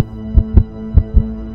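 Heartbeat sound effect from an OPPO F3 Plus phone advert: two pairs of deep, close thumps in a lub-dub rhythm over a low steady hum.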